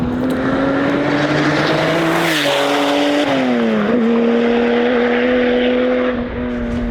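A Porsche pulls hard in third gear with its exhaust valves open, a loud, steady engine roar rising and dipping in pitch through a brief lift near the middle before climbing again for the full stretch.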